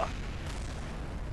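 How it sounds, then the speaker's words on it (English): An airplane explodes in the Kerbal Space Program video game, a muffled burst with a rumbling decay that lingers, moderately loud and with no talking over it. "explosions everywhere and another dead pilot"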